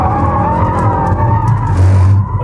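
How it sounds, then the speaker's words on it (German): An AMG car drifts with an abrupt burst of throttle, its engine roaring loud and close while the tires squeal and skid beneath the rising revs. "Du kannst aber natürlich mit dem Auto auch schön driften, indem du einfach mal einen abrupten Gasstoß gibst."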